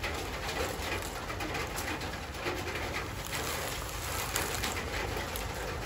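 Heavy rain falls steadily in an evening Vietnamese farmyard where green onions are being planted, a dense continuous hiss with pigeons cooing softly through it.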